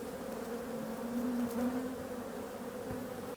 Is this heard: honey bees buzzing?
yes